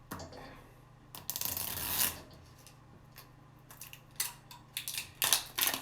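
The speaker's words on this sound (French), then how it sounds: "Et on va ouvrir cette Pokéball justement pour voir qu'est-ce qu'il y a dedans." A plastic Pokéball container holding Pokémon booster packs is opened up close, giving intermittent scraping, rubbing and crinkly rustling bursts with small clicks between quiet pauses.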